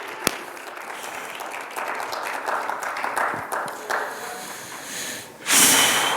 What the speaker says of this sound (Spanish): Vamos a darle un aplauso al Señor por eso.